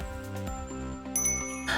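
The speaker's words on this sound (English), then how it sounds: "Bells tinkle delicately as I tug on the handle." Delicate door bells tinkle in the Hustle Cat video game, a few light chimes ringing close over a sustained musical background, with no talking.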